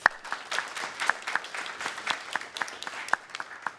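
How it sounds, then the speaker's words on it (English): A crowd applauds an award inductee at a UX design gathering, producing steady, dense clapping at moderate volume with scattered sharper claps, with no talking over it. "please give Chris a round of applause"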